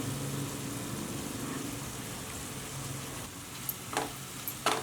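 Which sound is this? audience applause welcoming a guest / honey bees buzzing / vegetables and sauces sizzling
vegetables and sauces sizzling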